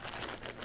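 A plastic bag holding a bar of soap crinkles and rustles continuously for a short moment, close and fairly quiet, with no talking.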